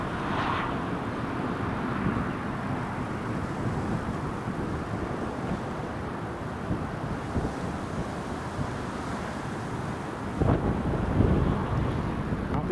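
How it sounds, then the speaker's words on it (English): Transavia airliner landing on a gusty, stormy day, a steady distant jet roar blended with heavy wind buffeting the microphone, swelling briefly louder near the end, with no voices. "that's a Transavia, cleared to land"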